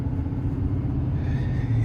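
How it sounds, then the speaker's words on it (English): A 2026 GMC Sierra 3500HD Denali Ultimate dually pickup cruising on the road, heard as a steady low engine and road rumble from inside the cab, even and continuous with no talking. "starting the test drive in this Sierra 3500 HD Denali Ultimate"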